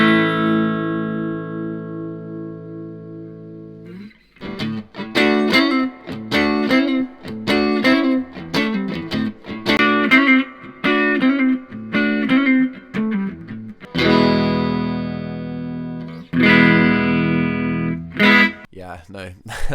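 After a held chord, a Les Paul electric guitar through an EQ pedal plays a busy run of picked notes and chords with short gaps and a few loud strummed hits, all close and fairly loud with no talking.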